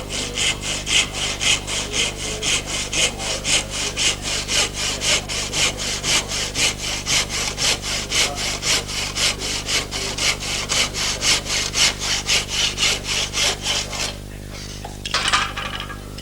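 A hand auger boring into wood, a steady rhythmic rasping scrape repeating about twice a second, close and clear, ending in a few knocks.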